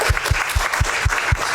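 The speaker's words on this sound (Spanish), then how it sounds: "Un aplauso también para Águeda Noriega." Audience applause for a guest at a Peruvian comics panel, with steady claps and a thumping low beat recurring about every quarter second, as though a few people stomp or slap in time, loud and continuous for the whole short stretch.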